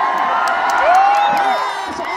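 Crowd at the Padamghat fair cheering and whooping loudly and continuously, with a sharp whistle-like shout rising above the roar partway through.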